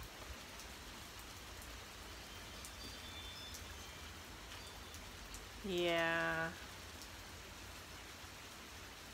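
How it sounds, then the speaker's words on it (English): Steady rain, heavier than a drizzle, hissing evenly throughout at a moderate level, with a brief spoken word partway through. "It's more than a little drizzle."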